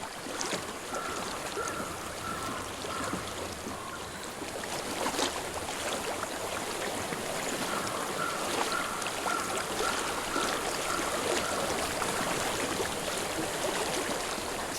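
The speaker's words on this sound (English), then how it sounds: "I hear water. Go to it." Steady flowing water of a stream in the video game Hellblade rushes constantly, with a faint high tone drifting in and out over the watery hiss.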